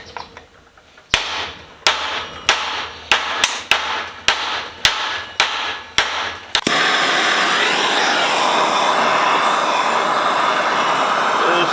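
A hammer strikes repeatedly to drive a part out of an old Reed No. 32 bench vise, about ten sharp metallic blows at a steady pace, followed by a louder continuous rushing noise.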